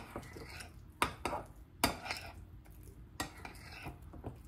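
Pandesal dough is stirred in a bowl, a few heavy knocks and scraping thuds at an uneven pace, close and fairly quiet, separated by brief pauses.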